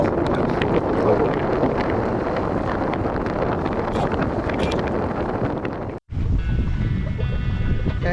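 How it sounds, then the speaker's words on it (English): Wind roars steadily over the microphone aboard a sailboat running downwind under full main and jib in open water, with water rushing along the hull; after a brief dropout the wind and water noise continues, slightly more muffled. "I've got full main and full jib out. Wind is at 110, 120, so nice downwind sailing"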